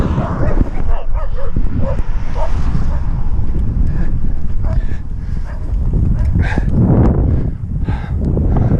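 Dogs in Ecuador bark repeatedly at close range amid gusty wind noise and background commotion, the barks coming in irregular bursts.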